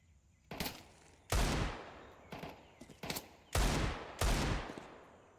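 Desert Eagle gunfire in a Counter-Strike match, about six sharp, loud shots spaced irregularly, with faint background game sounds between them.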